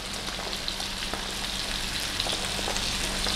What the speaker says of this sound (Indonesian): Kita tumis dulu wortelnya.